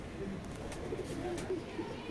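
Pigeons coo softly in a low, faint murmur among Teddy pigeons kept for sale, with someone talking quietly over them.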